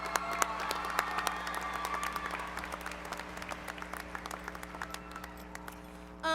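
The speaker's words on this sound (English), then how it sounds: "Let's give her a round of applause" An audience at the A.C. Davis High School 2018 graduation applauds a graduating student, starting as a thick wash of clapping and thinning to scattered claps against a steady hum of the hall.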